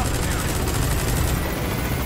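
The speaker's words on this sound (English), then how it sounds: "Celebratory fire!" In the Metal Gear Solid V video game, a burst of celebratory gunfire comes as rapid, loud automatic shots that merge into a dense, continuous roar lasting about two seconds.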